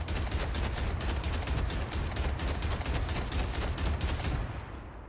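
Continuous dense gunfire in the Deadlock video game, a steady wash of overlapping shots with no pauses, easing off slightly at the end.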